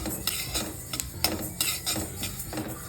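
Flaxseeds dry-roasting in a pan for chutney, giving off light irregular crackles and pops mixed with clinks and scrapes of a spoon stirring against the metal, fairly quiet and close.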